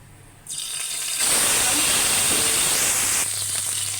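Ginger and garlic dropped into hot oil in a pan after browned onions have been lifted out, a sudden loud, steady sizzling hiss that flares up and holds, then eases slightly toward the end.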